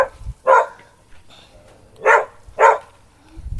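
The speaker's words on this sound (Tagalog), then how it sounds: "Ang ingay naman kasi ng aso." A dog barks four times in short, sharp bursts with uneven gaps, fairly close and loud, with faint background noise between barks.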